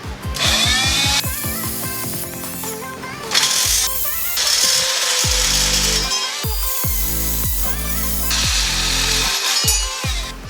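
A power saw or cutting tool slices through the heater core pipes of a 2012 Dodge Avenger, a loud, steady, close grinding whine with repeated pulsing strokes and brief pauses.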